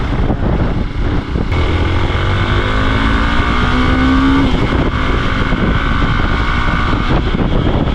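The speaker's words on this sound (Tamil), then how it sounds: "ஐயோ வீலிங் அடிக்குது அதுதான் ஒரு பையன் வண்டி அது வந்து டாப் ஸ்பீட் போய் பார்க்கலாம்" A Hero XPulse 200 BS6 motorcycle revs hard through a wheelie, a loud continuous engine roar with rising and falling pitch that stays close and fills the whole stretch without talk.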